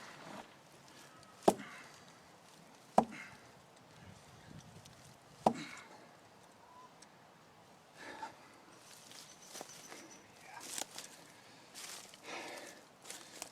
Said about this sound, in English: So you can see as I'm stabbing in